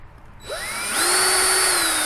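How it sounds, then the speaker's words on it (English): A power drill spins up quickly and whines steadily as it bites into a metal can, a loud rising motor tone held to the end. "you're going to want to drill a hole in the center"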